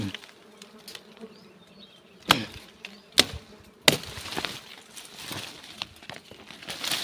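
Honey bees swarm around a wild hive in a hirda tree as it is cut out with a sickle: a steady, close buzzing drone broken by a few sharp knocks.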